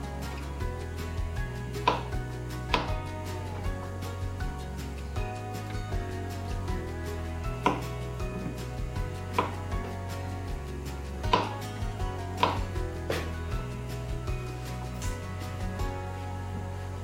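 Squash is chopped into small pieces with a knife on a board, a string of crisp, irregular knocks, some close together and some spaced apart, clear and near over a quiet low hum, with no talking.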